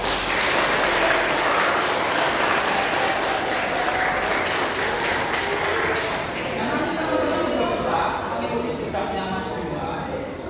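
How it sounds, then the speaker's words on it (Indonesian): Loud sustained applause from a school audience at a sport shooting outreach event, continuous clapping that fades slightly toward the end. "Tepuk tangan."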